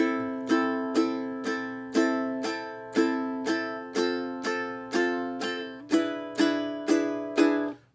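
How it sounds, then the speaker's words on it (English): Acoustic guitar strummed with single downstrokes, one chord strike about every half second, each ringing briefly before the next, changing chords partway through. "A down strum works well here."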